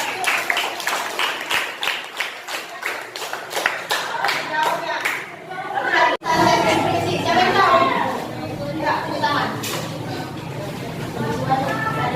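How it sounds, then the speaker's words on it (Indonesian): An audience of children in a classroom breaks into loud, rhythmic clapping, with voices chattering and calling out over the applause after a brief pause. "Oke, kasih aplaus kawan-kawan."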